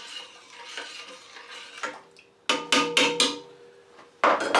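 Corn mash with added enzymes is stirred in a pot, giving a soft scraping swirl followed by a quick run of sharp knocks and clanks from the stirring tool against the vessel, close and loud, with no one talking.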